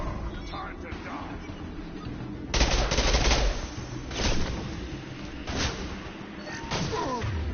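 Gunfire in Mass Effect 2 combat, rapid weapon bursts and thuds that start abruptly and come in repeated volleys over a noisy battle bed, with someone talking through the fight.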